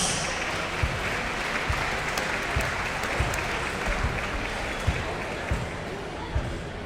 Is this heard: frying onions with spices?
no